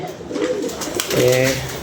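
Pigeons cooing nearby, a couple of low warbling coos rising toward the end, with a faint voice murmuring in the background.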